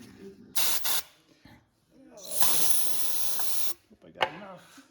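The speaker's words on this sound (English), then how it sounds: "We'll blow it out with some carb cleaner." Carb cleaner sprays from an aerosol can into the carburetor of a 1990s Toro GTS lawnmower, two short bursts followed by one long close hiss and a final quick spurt, with faint handling noises between them.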